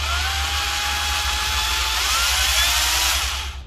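A used Japanese cordless drill runs in regular drilling mode with a steady, loud, high motor whine. It holds at the same pitch throughout and tails off slightly at the end.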